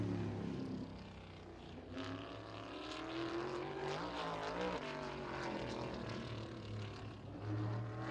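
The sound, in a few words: race car engine throttling at Anderson Speedway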